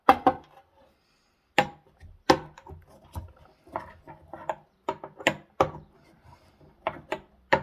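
Herbs being crushed and ground for an herbal concoction, sounding as a series of sharp, dry knocks and grinding scrapes in uneven bursts with short pauses, close and fairly loud, with no talking.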